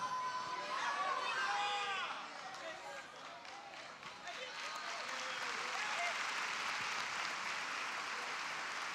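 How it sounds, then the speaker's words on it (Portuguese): Church congregation applauding during a sermon, a broad steady wash of clapping that thickens in the second half, with a voice speaking over the start. "Se esse aplauso é para a palavra de Deus"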